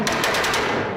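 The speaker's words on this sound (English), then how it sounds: "Here's the popping and banging auto exhaust." Rapid, loud cracks and bangs from a car exhaust, popping in quick bursts like gunfire, close by with no talking.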